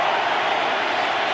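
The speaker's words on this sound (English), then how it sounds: "Listen to this crowd." A dense, roaring football stadium crowd during an NFL game between the Minnesota Vikings and Arizona Cardinals, steady broadband noise with no distinct voices.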